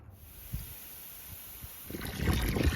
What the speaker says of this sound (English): I'll be able to pump water out of there.